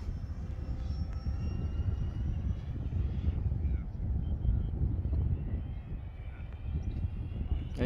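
A radio-controlled model airplane flies overhead near water, its small engine giving a steady, distant whine and drone that rises and fades slightly, with light wind rumble on the microphone.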